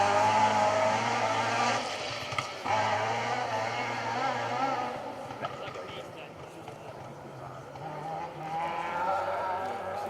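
A white 2-litre Mark II rally car passing on a forest stage, its engine a sustained loud roar that rises and falls as it goes by, with spectator chatter mixed underneath.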